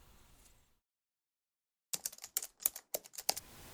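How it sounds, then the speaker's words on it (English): A burst of rapid keyboard typing, about a dozen sharp clicks in quick succession, close and clear after a brief silence, with no voices. "Annie96 is typing."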